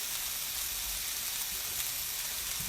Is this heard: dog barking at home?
no